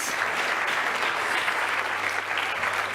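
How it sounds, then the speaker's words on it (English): Applause at the Alpine Motorsports 2024 launch event, a dense, steady wash of clapping from a crowd at a constant level, with no voices over it. "I think that deserves a round of applause."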